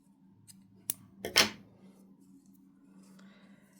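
Scissors snip through red and yellow crochet yarn in a few quick, close, crisp cuts, the last one loudest, with soft handling noise around them and no talk.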